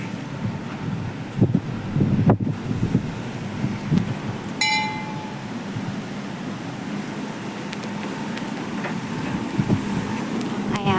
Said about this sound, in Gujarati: કેટલો પવન છે મસ્ત ઠંડો ઠંડો પવન આવે છે